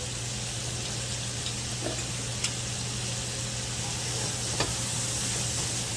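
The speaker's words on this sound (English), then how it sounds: "a heaping tablespoon. Okay? Of butter in there. It won't hurt it. Just to help you saute those veggies up." Vegetables sauté in a heaping tablespoon of butter in a pan, a constant broad sizzle and hiss with a low steady hum underneath and a few faint clicks.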